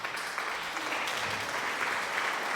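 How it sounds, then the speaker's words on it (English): Canned applause effect plays during an online board game session, a steady wash of dense clapping that holds at an even level for the whole stretch without any voices. "Thanks for giving me the applause sound"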